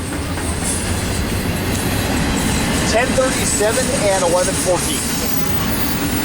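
A freight train rumbles past on Cajon Pass with loud, steady rolling noise, wheel squeals rising midway, while a man calls out locomotive numbers over it.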